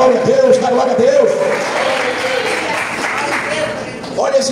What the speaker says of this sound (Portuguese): Quem pode dar glória a Deus aí, meus irmãos, e aplaudir ao Senhor?